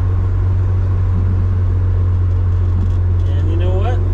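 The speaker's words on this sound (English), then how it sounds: "And we were just doing 100 kilometers an hour." A restored 1968 BMW 1600 GT cruising at about 100 km/h, its steady engine drone and low road rumble continuous and loud from inside the cabin, with a brief rising whine near the end.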